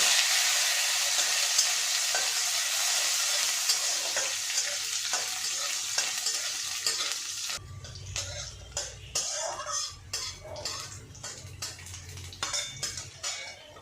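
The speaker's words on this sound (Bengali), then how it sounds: "এই যে রসুন এটাও ভেজে নেব" Garlic frying in hot oil: a steady broadband sizzle runs close and loud for several seconds, then drops into a quieter crackle with scattered stirring and clinks of a utensil against the pan.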